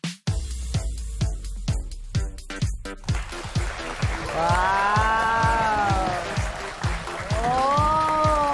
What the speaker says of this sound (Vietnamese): Một tràng pháo tay thật lớn ạ.